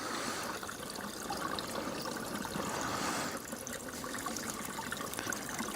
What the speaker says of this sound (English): But we're literally right next to the stream.